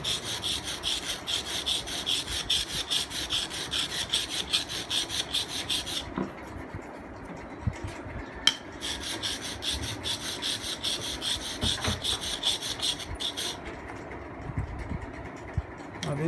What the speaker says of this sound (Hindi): अब ये रगड़ते जाएंगे, ये सही हो रही है।